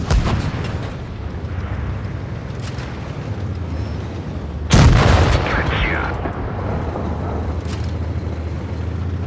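A tank's main gun fires and shells strike in World of Tanks Blitz, the 60TP in battle: one loud, sudden boom with a crashing impact midway, over a steady engine rumble and background battle noise.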